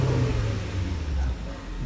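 A 2013 Porsche, recently repaired after an accident, comes to life with an engine rumble and revving that stays steady and fairly loud throughout, with no talking over it.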